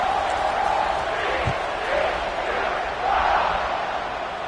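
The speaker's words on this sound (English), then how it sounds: "They're set to kick it off, and this crowd now ready to get behind them." Football stadium crowd at Florida at TCU just before kickoff, a steady loud roar of many voices filling the whole stretch, with broad swells rather than distinct claps or cheers.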